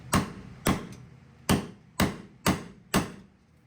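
A punch struck with a hammer against a Jeep Wrangler JKU back panel, six sharp metallic blows at an even, unhurried pace, close and clear with no talk.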